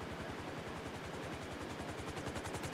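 A helicopter in GTA 5 thumps with rapid, regular rotor chops that stay close and steady, with no talk.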